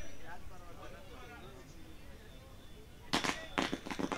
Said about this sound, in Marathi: फटाक्याच्या आतिषबाजीनं इथे तुम्ही पाहता